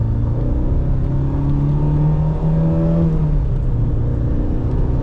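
A 1982 Porsche 924 with its stock, original engine accelerates hard, its loud, continuous engine note climbing in pitch with a brief dip around a gear change midway, with no talking.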